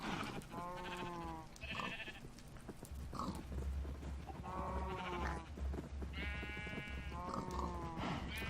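Sheep in the Minecraft video game, modded with Better Than Wolves, bleat repeatedly in short wavering calls over a steady low background, with no talk.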